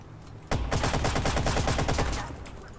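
AK rifle gunfire in the video game Watch Dogs: a loud, sudden sustained burst of rapid automatic shots at an even rhythm, ringing out alone for about two seconds before trailing off.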